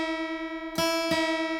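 A sustained guitar note rings, then two more plucks join it, the pitches clashing slightly out of tune with each other.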